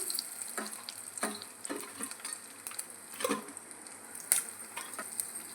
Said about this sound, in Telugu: ఆయిల్ తెగగానే పోపు గింజలు ఉద్దిబ్యాళ్ళు జీలకర్ర కొంచెం కరివేపాకు